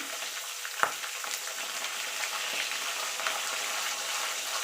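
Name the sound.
fish head frying with salt and turmeric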